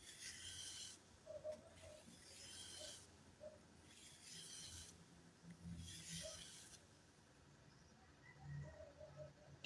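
Three long, slow strokes of a curved knife blade pulled across 400 grit abrasive, each a smooth close rasp lasting about a second, separated by quiet pauses and faint handling noise.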